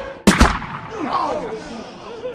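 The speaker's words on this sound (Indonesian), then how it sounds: "Sang penjaga dari atas menembaknya dengan peluru karet" A guard up above fires rubber bullets at a prisoner in the prison drama The Last Castle. Two quick, loud gunshots crack close together, followed by echoing crowd murmur and shouting voices.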